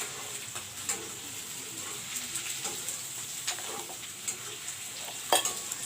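Village-style fish curry with turmeric powder being mixed in a pan: repeated scraping stirs and light clinks over a soft, steady sizzle, close up with no talking.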